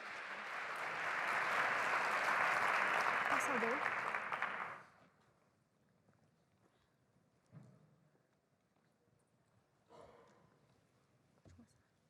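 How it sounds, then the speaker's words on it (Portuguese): A conference audience applauds a startup presentation, with loud, dense clapping for about five seconds that then stops abruptly, followed by quiet room sound and a few faint thumps. "Salva de palmas para a Aqualuz."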